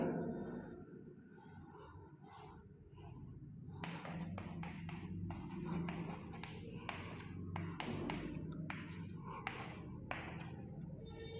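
Marker or chalk strokes sketch a steeper curve on a classroom board, giving quick scratchy taps and sweeps in short bursts over a low room hum, with faint talk in the background.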